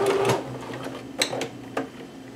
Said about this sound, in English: I'm just going to hold that tight while I sew through that now.